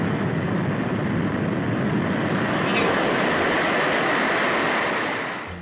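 A rocket engine ignites at launch: a loud, continuous roar with a heavy broadband rumble that holds steady, then gradually fades toward the end.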